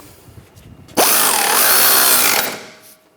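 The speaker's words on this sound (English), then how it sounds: "now we're going to tighten this bolt down" A power tool runs up to tighten a front lower ball joint bolt on a 2009-2013 BMW 328i xDrive, a loud, close, steady whirring burst lasting about a second and a half before winding down, with quiet shop sounds around it.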